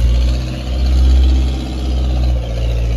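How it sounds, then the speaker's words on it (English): A 38 horsepower Kohler fuel-injected engine on a firewood processor idles steadily, a close, continuous low rumble with gentle swells in loudness and no voices over it. "So the 38 horsepower Kohler fuel injected engine"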